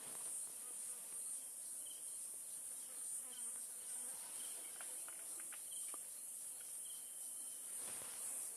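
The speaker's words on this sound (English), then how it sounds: "There's lots of flies buzzing around us." Flies buzzing around on a safari in the bush, a steady high insect drone with occasional nearer passes and faint rustles, no talk.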